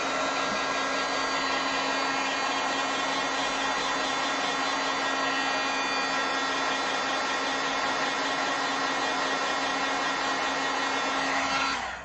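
A heat tool blows continuously to dry wet watercolor ink on a card, a loud, steady whirring hum with an even tone lasting about twelve seconds before switching off.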